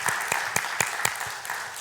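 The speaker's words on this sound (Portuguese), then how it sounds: "Vamos aplaudir o Senhor." Church congregation clapping together, a steady broadband wash of applause with a few sharper claps standing out in a loose rhythm, fairly close and sustained throughout.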